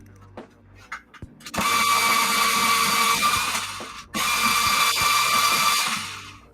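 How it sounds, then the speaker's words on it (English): Electric pencil sharpener grinding a colored pencil, loud whirring bursts of about two and a half and two seconds after a few soft clicks and taps, close by and free of talk. "I love the points that Matte sharpener gives."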